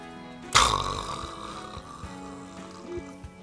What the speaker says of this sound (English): that's the loudest snoring I've ever heard